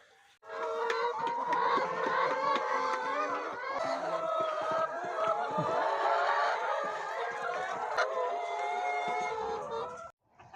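Hens on a free-range organic egg farm of about 130 birds cluck and call continuously at close range, a dense steady chorus of fowl with occasional louder squawks and no talk over it.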